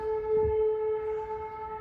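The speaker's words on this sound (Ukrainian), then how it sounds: "лунає сирена" An air raid siren wails with a steady, sustained tone, heard from a rooftop during a flat-roof repair job in wartime Ukraine.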